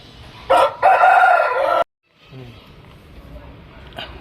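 A Surmi breed rooster crowing close by, one loud drawn-out crow lasting about a second, followed by quieter clucking and rustling.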